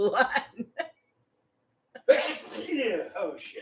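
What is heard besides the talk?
sneeze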